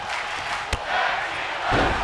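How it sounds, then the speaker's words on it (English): A wrestling arena crowd at a tag team show roars and shouts in a steady swell, broken by a sharp thud partway through and rising again at the end. "the crowd is loving this, chanting tag team wrestling"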